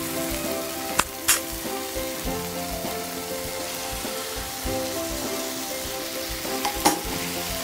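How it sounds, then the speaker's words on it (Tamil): Prawns for Kerala-style chemmeen theeyal frying in a pan, giving a steady, dense sizzle like rain on a surface, with a few brief clinks of a utensil and a low background hum, no speech. "ப்ரான் இதிலே போட்டு ஃப்ரை"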